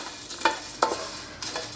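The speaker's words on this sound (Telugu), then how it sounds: "వేగిపోతాయి ఎందుకంటే ధనియాలు ఫాస్ట్గా వేగుతాయి" Coriander seeds, cumin and black pepper dry-roasting in a pan, with two short scraping stirs and a brief rattle, faint and close.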